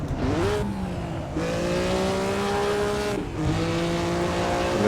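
Historic 1954 Formula 1 race cars at the Pedralbes circuit in Assetto Corsa, engines howling loudly as they launch and accelerate through the gears, rising revs with brief dips at each shift.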